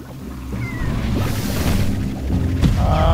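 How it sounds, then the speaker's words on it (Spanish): Lava cat slime meowing in the video game Slime Rancher, a short cry in a busy mix of game effects and background noise, with a rumbling burst near the end. "Uy, gatito de lava."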